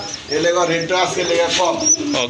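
White-breasted pigeons cooing at a pigeon seller's stall, soft throaty coos close by with someone talking over them.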